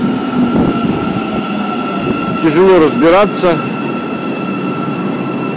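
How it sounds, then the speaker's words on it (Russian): An Istanbul metro train heard from inside the underground system, with a steady rumble and a rising then falling whine of the motors and wheels near the middle, under brief talk. "Мы спустились в метро Стамбула."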